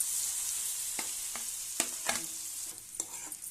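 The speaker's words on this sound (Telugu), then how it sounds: "మొత్తం మిక్స్ చేసుకోండి." A spoon stirs mashed sweet potato together with raisins, cashews and coconut in a pan for halwa, making soft scraping scrapes and a few taps over a faint steady sizzle, close by with no talking.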